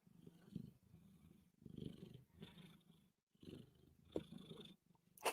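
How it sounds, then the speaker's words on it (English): A soft, rhythmic purr close by, rising and falling with each breath in a steady cycle, with a brief pause and a faint click near the end. "Can y'all hear her purr?"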